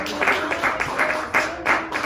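A church congregation claps for Jesus in a steady rhythm, loud, with regular bursts in unison and a few voices faintly under it.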